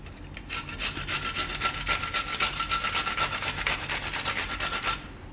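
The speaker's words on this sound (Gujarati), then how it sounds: "તો એને થોડુંક છીણી નાખીશું" Capsicum rubbed over a hand grater, shredding it for pava manchurian, makes a close, rhythmic scraping of quick repeated strokes that runs steadily for about five seconds, then stops; no one speaks.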